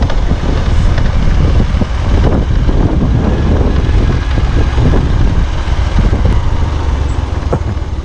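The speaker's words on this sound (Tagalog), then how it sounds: "medyo mahangin yung lugar na ito." Steady, loud wind roaring and buffeting against the microphone outdoors near a tunnel in Gumatdang, Itogon, Benguet, a continuous broadband rush with gusty low rumble throughout.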